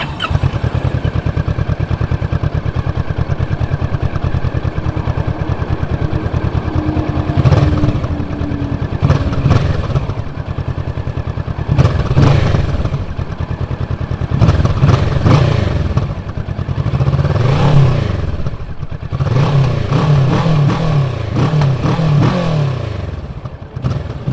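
A 2023 Kawasaki Vulcan S motorcycle engine runs steadily close by, with a low rumbling idle and several short throttle blips and revs in the second half, with no talking.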